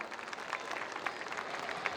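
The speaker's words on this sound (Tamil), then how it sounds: "நல்ல ஒரு பலத்தை கைத்தட்டல கொடுக்கலாம்." Applause from the audience at a school annual day celebration, a steady dense patter of many hands clapping throughout, moderately loud and continuous with no talking.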